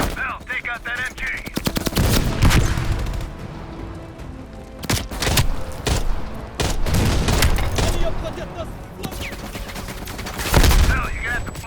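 Rapid bursts of machine gun fire and single heavy gunshots crack and boom in the Call of Duty: Cold War video game, loud and near, with short pauses between volleys and battlefield voices talking in between.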